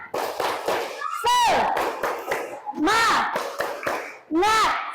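Children in a classroom doing a rhythmic spirit clap chant, quick patterned claps mixed with loud shouted voices and rising calls, close and lively throughout.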